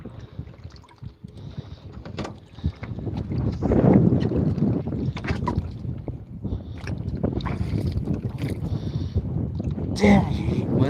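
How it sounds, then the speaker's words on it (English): Wind gusts buffet a small fishing boat out on the water, a rushing, uneven roar against the microphone. Someone talks over it now and then. "Damn you, wind."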